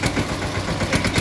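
A small tractor engine pulls a sugarcane buggy at a sugar mill, a close, loud, rough pulsing chug heard in a brief steady burst.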